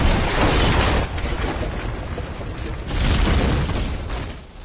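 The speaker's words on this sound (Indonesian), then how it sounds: "Ledakan berantai terjadi dengan dahsyat." Heavy, rumbling blasts of a chain of explosions in an action film roll one after another, a dense wall of booming noise that swells, dips, and surges again without pause.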